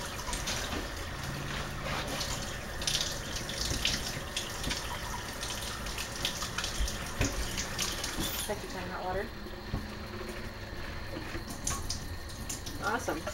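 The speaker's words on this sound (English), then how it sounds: "And I have to clean it with soap and water this time." A betta fish bowl scrubbed clean with soap under running tap water, a steady sink stream splashing and trickling throughout with brief clinks and knocks, close and fairly loud.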